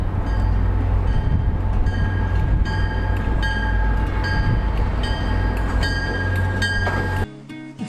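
A train draws near, a loud, continuous rumble with rail clatter and repeated metallic clicks growing in intensity, then cutting off abruptly near the end.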